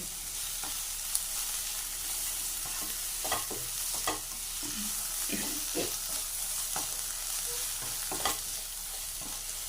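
Eggplant sizzles and fries in a pan with a constant hiss, punctuated by intermittent scraping and clinking as a spatula stirs, close and moderately loud with no talking.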